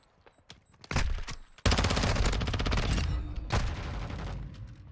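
Rapid automatic gunfire in a video game fight against bots, loud sustained bursts after a few isolated shots, with no talking.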